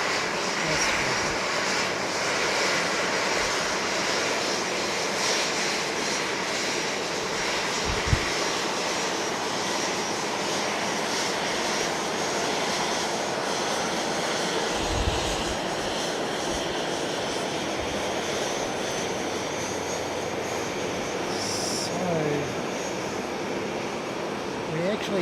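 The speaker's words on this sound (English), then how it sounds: "down the end of the runway, you'll see Jow taxiing, and there's incoming aircraft" Incoming aircraft at Fukuoka International Airport, a steady distant jet-engine roar that lingers and swells gently across the clip, with a person talking quietly over it.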